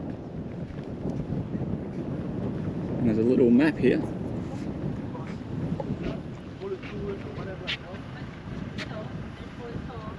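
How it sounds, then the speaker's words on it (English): Steady wind buffets the microphone in a low continuous rumble at Kalbarri National Park, Australia, with a person speaking briefly over it. "So it's windy, hold on to your hats."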